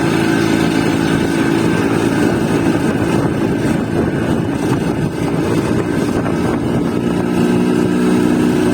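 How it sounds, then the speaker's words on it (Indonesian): A 1983 Vespa PX two-stroke scooter engine runs steadily on a ride between Trenggalek and Ponorogo, a loud, close, continuous buzzing drone mixed with road and wind rush, with no speech. "Kuputar kunci Vespa tua ini, aku merasakan getaran ringan mesin dua tak"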